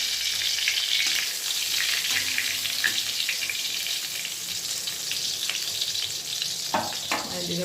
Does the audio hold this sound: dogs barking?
no